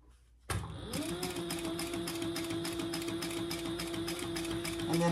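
A sewing machine starts after a brief quiet moment and runs steadily as it backstitches a fabric pouch, its motor whirring with a rapid needle rattle, close and continuous.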